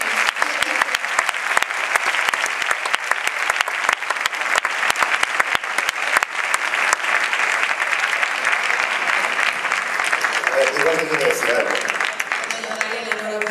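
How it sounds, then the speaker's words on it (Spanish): An audience in a theatre gives a child singer loud, sustained applause that continues evenly throughout, with a voice breaking through near the end. "Pues ese fuerte aplauso también, que mira qué guapa viene."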